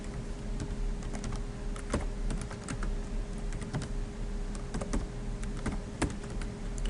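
Someone types a password on a computer keyboard, with quick, uneven, close keystroke clicks tapping steadily over a low, quiet background hum, and no talking.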